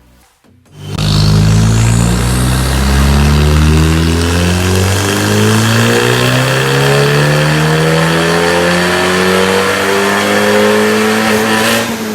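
A remapped Abarth Punto engine revs hard and holds at high revs, its pitch climbing steadily in a loud, continuous roar with no talking.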